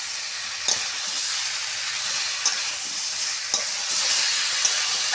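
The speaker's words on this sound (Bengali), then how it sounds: "এটা ভালো করে কষিয়ে দেবো কষানো হলে তারপরে জল দেবো" Fish head and jackfruit curry stir-fried in a pan gives a steady, close sizzle and hiss, with a few sharp clicks of the spoon scraping the pan throughout.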